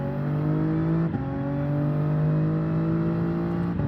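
A Toyota Supra in Gran Turismo 7 accelerates hard on the Mount Panorama race track, its engine a steady, close droning whine that climbs in pitch, with short dips at two gear shifts.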